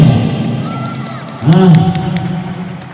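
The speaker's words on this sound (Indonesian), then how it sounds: "Tepuk tangan untuk Pak Samsi Asih." A crowd at a political gathering in Gorontalo cheers and applauds for a regional council chairman, a steady roar of voices that swells briefly and then carries on at a lively level.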